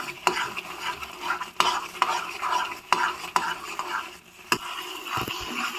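Carrot halwa cooked with ghee is stirred in a kadai, with rhythmic scraping strokes of a spoon against the metal, sharp taps at intervals, and a light sizzle underneath.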